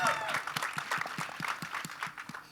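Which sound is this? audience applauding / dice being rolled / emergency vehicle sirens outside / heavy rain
audience applauding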